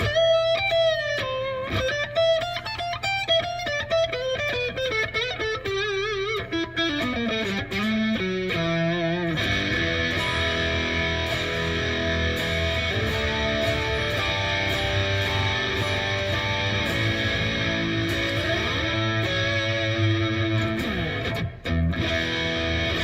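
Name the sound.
Eart GW2 headless electric guitar, neck pickup position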